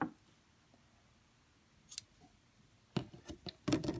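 Scissors snip at a multi-colored yarn pom-pom, with a single sharp cut near the start and one around two seconds, then a quick cluster of close snips at the end.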